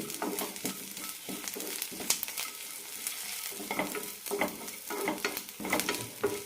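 Grated coconut is stirred and roasted in a pan, giving a soft dry sizzle with repeated scraping strokes of a spoon in an uneven rhythm, close up and without talk.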